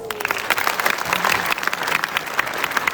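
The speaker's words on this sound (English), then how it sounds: "Can I get a big round of applause?" An audience of students and professors in a hall breaks into a big round of applause, dense, loud clapping sustained throughout the moment with a few voices mixed in.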